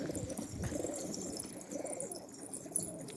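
Mülemas pigeons cooing in a loft, soft low repeated coos from nearby birds over faint background noise.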